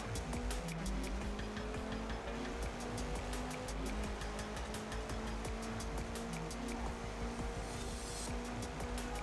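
A car racing in Forza Horizon 4, engine droning steadily with shifting tones and rapid repeated clicking or rattling transients across the whole stretch, loud and continuous with no talk.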